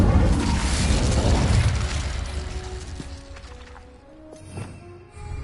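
Incendio fire spell cast in the video game Hogwarts Legacy: a loud, roaring burst of flame that swells and fades over several seconds, followed by a few small crackles and pops.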